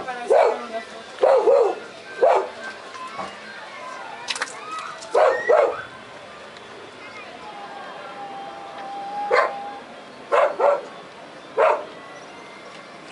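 A dog barks repeatedly in short, sharp bursts, some in quick pairs, close by with quiet pauses between.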